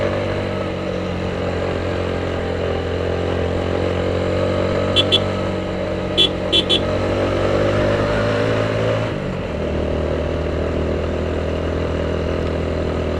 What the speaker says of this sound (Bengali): ইঞ্জিন খুব চেষ্টা করতেছে।